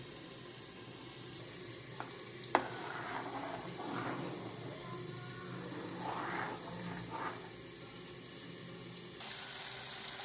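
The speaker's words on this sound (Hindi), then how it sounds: "इधर गोभी की खीर बन रही है हमने डेढ़ किलो दूध में गोभी बॉईल करके डाल दी है" Cauliflower kheer simmering in a large pot of milk, a steady low bubbling hiss with soft pops and one sharp clink, no talking.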